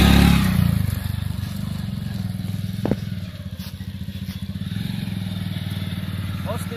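A motorcycle runs on a fuel tank mixed with diesel, petrol and McDowell's No.1 whisky. The engine idles close by with a rough, even pulsing, a brief clank near the middle and slight revving toward the end.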